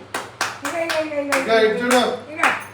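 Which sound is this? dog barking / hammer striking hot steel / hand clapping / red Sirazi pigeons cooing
hand clapping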